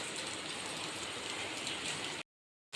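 Light drizzle falls over a farm field in a steady, even hiss that lasts about two seconds and then cuts off abruptly.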